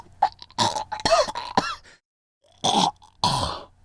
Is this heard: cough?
yes